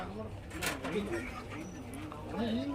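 Pigeons coo at an outdoor pigeon market where birds are sold, with a few rising and falling calls close by over steady crowd murmur and background voices.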